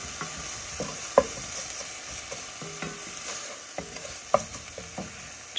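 Onions with black pepper sautéing in a pan, a steady close sizzle broken by occasional scrapes and taps of a spoon stirring through them.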